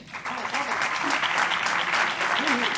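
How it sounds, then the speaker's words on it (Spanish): Audience applause for an honoree at a civil protection recognition ceremony, a steady crowd of clapping hands with faint voices audible beneath it. "Fuerte aplauso para Pablo."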